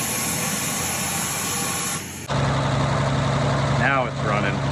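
An International Harvester 1200A pickup truck engine, unused for decades, catches and starts after a pause, then idles steadily and loudly at close range with a brief whistling squeal over the running motor.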